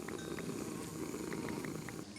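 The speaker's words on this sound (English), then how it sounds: "She's purring incredibly loud." A creature in a Minecraft modpack purrs steadily and softly on its own, a continuous low rumbling churr with faint ticking accents throughout.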